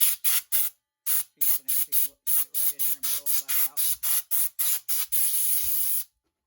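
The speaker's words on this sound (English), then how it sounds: "I'll hook up my air hose and I'll just blow it out." A compressed air hose blows sawdust out of a Harbor Freight Warrior 10-inch table saw in about fifteen short, loud hissing blasts in quick rhythm, ending with one longer burst, alone without talk.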